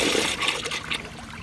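Water rushes and swirls through a Kohler Stanwell urinal as it flushes, a steady, close, hissing flow with no talking over it.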